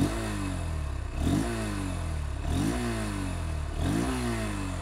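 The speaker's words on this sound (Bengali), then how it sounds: "এই বাইকটার এক্সজস্ট সাউন্ড আপনার একটু শোনাই এক্সজস্ট সাউন্ডটা" Honda X-Blade 160 motorcycle with a dual-barrel exhaust revving repeatedly, four rising throttle blips over a steady idle, close and loud with no talk.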